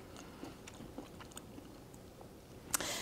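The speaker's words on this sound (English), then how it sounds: "Then let's get this mushroom right here. I'll taste it." Quiet chewing and biting of a sheet-pan roasted mushroom, soft crunchy mouth sounds over about three seconds with a sharper bite near the end, no talking.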